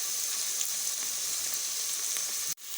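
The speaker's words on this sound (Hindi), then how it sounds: "प्याज को हम हल्का गोल्डन फ्राई कर रहे हैं।" Chopped onions sizzle steadily in hot oil in a pan, browning to light golden for beef keema; a continuous close frying hiss runs alone before cutting off abruptly near the end.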